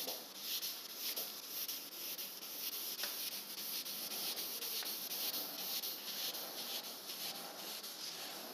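Steady, soft rhythmic rubbing of wet sanding on a car fender's clear coat, a quiet continuous scratchy swish with regular strokes and no voices.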